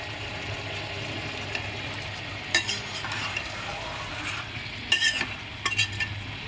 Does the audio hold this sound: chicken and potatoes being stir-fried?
yes